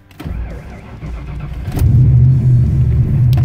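A hot turbocharged Ford Mustang engine cranks and catches, then settles into a loud, steady rumbling idle that surges slightly as it runs.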